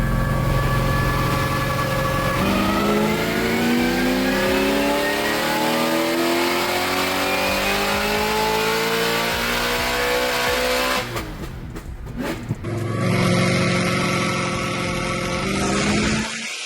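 Corvette ZR1 making about 1100 hp and fitted with a Kong intake, revving hard on a dyno during a pull. The engine note climbs steadily in pitch for several seconds, briefly drops off as the throttle closes, then roars again, loud and close.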